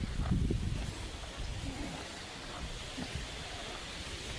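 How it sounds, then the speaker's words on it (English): Wind blowing at an outdoor fishing spot: a steady, soft broadband rush with a louder low buffeting gust at the start, then an even, faint whoosh throughout. "that fucking wind feels great"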